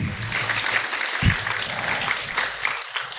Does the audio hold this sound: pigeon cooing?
no